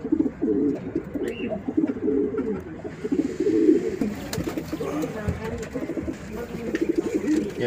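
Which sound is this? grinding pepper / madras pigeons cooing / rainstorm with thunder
madras pigeons cooing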